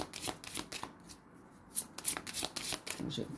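Oracle cards are shuffled for a card reading, a series of quick close riffling and flicking bursts while a person talks softly over them.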